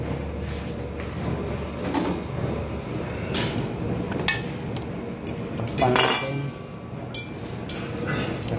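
Metal pot lid set over adobo cooking on a stove, with scattered clanks and scrapes of cookware, a louder rattling clatter midway, and steady low kitchen rumble underneath; close and without talk.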